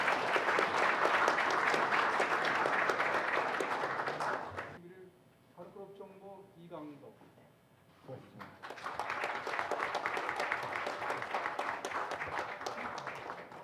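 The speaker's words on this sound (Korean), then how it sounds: "우리 남경필 지사님께 박수 한번 보내드리겠습니다" Warm applause from a forum audience rises and fades, leaving a quiet gap with a few voices and scattered claps, then swells into full sustained clapping again.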